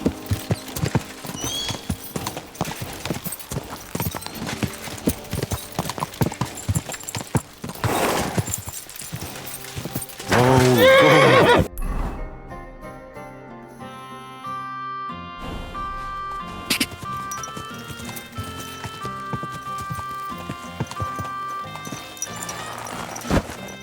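Horses gallop with clopping hooves and whinny in Kingdom Come Deliverance 2, a medieval game. Dense hoofbeats fill the first half, then give way to quieter, sparser game sounds and music.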